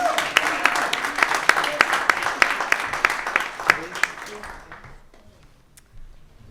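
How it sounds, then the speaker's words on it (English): Crowd applause with sharp individual claps, loud at first and then thinning out and fading away near the end. "Please give another round of applause for Teddy, Kieran, and Kaiser."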